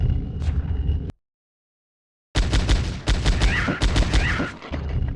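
Video game gunfire from a demo: a loud burst of shots, then a sudden full silence, then rapid, punchy volleys of repeated shots that carry on to the end.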